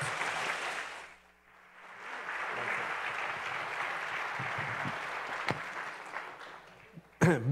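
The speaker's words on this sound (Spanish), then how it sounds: "Démosle un fuerte aplauso y una bienvenida muy cálida a este escenario" Warm audience applause welcoming a doctor onto the stage at a Mexican health forum, a steady wash of clapping that dips briefly near the start, then swells and holds before a sharp thump at the end.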